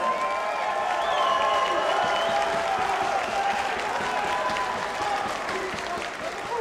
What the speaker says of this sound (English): give a huge round of applause to both fighters this evening